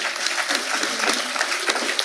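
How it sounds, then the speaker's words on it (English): An audience claps at the close of a day-two Surya Katha talk program, a dense, steady wash of applause that keeps its level for about two seconds, with no voices over it. "Let us hear little more louder applause for him."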